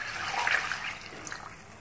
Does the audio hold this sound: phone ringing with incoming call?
no